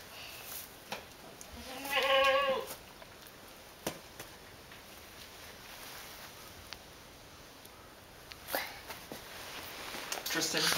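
A goat bleats once, fairly close, amid quiet outdoor rustling and a few faint clicks.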